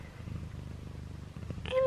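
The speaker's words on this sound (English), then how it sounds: "And she's purring." A purring cat curled up inside a pyjama drawer gives a steady low rumble that runs close and continuous, and then a brief brighter meow-like cry cuts in at the end.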